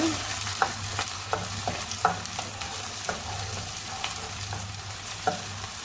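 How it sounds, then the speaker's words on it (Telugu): Ginger garlic paste frying in a pan while it is cooked for masala semiya, a steady sizzle with several sharp scrapes and taps of a spoon stirring against the metal, close and alone with no talk. "నేను 2 ప్యాకెట్స్కి 1 స్పూనే వేసాను అల్లం వెల్లుల్లి పేస్ట్. ఇది ఇలా కొద్దిగా వేగాక"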